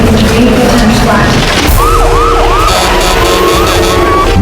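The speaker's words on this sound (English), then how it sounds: "Police and ambulances came flying up the road into the campground." Ambulance and police sirens wail loudly and close on a road into a campground, a rising and falling tone sweeping repeatedly over a steady engine rumble.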